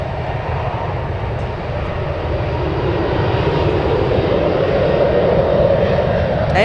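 Emirates airliner jet engines at San Francisco airport, a broad, loud roar swelling slowly as the aircraft moves, with wind noise mixed in.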